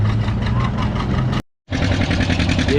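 A pulling tractor roars at a spring tractor pull in Lynden, a loud, steady close engine drone that cuts out briefly midway and then resumes.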